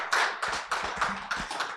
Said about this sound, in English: We can make the applause louder than that.